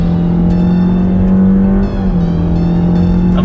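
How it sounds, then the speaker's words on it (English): A Toyota GR Yaris accelerates hard around the Sepang circuit, its engine droning loud and steady from inside the cabin with a brief dip in pitch as a gear change comes through near the middle. "I'm not sure if you can hear the gear changes"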